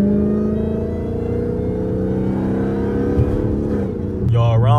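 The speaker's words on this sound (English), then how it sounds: "I'm gonna let y'all hear the whine real quick." A supercharged Dodge Hellcat with a ported supercharger snout accelerates, its engine droning loudly and steadily with a layered whine over the exhaust, heard up close before a brief change near the end.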